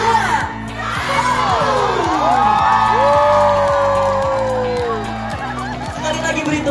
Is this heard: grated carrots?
no